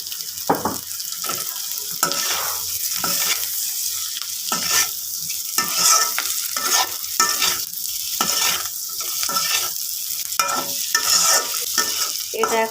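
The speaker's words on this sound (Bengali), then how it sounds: "পেঁয়াজ মরিচ ভাজা হয়ে গিয়েছে, এর মধ্যে এখন ভেজে রাখা ডিমগুলো দিয়ে দিচ্ছি।" Onions, green chilies and fried eggs frying in a pan, with loud continuous sizzling and rhythmic scraping strokes of a spatula stirring the mixture up close.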